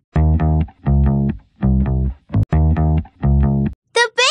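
Deep, buzzy bass notes played in a repeating rhythmic riff, loud and close, ending with a brief higher electronic flourish.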